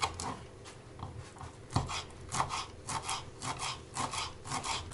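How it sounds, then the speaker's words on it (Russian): Knife chopping fresh dill on a cutting board, a run of close, rhythmic scraping cuts of moderate loudness with no talking. "Нарезаю укропчик."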